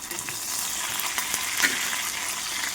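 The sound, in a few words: mustard seeds and cumin sizzling in oil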